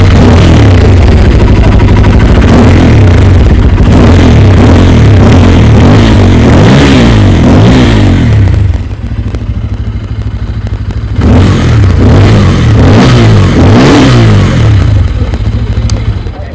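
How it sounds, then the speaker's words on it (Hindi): A Bajaj Pulsar N250 motorcycle engine revs repeatedly, its exhaust roaring loud and close in surging waves, dropping briefly toward idle before rising again, with no talk over it. "तो गाइस अभी जस्ट आपने इस गाड़ी के एग्जॉस्ट साउंड को सुना"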